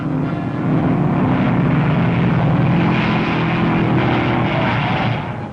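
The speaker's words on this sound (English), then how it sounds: "With throttles hard down to the floor, they barrel around the bends at nearly 100 miles per hour" A pack of 1930s dirt track racing cars thunders by at full throttle near 100 miles per hour on a circular mile track, a loud dense continuous roar that swells and holds without pause.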